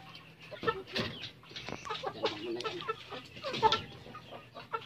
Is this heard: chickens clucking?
yes